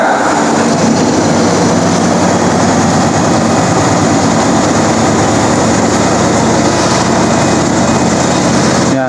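A CR3000A common rail injector test bench runs loud and continuous, a dense high-pitched mechanical whine and hum holding steady throughout with no pauses.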